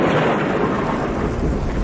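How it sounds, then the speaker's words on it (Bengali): Thunder rumbles under a steady rush of heavy rain as a storm breaks in a Bengali cartoon, loud and continuous with no talk. "এই যা, এরে বৃষ্টি শুরু হয়ে গেল।"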